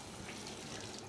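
Tap water runs steadily into a sink as potted plant leaves are rinsed during repotting, a continuous close hiss of flowing water with no talk.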